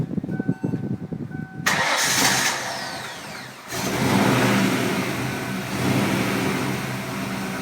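A Ford Mustang SVT Cobra engine cranks briefly, then fires up loud and close, revving before settling into a steady idle.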